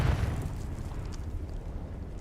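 A grenade blast in the Dune Awakening desert PvP game, a heavy low boom at the start that rolls off into a long rumbling tail, with no voices over it.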